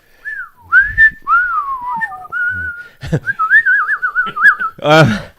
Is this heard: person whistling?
yes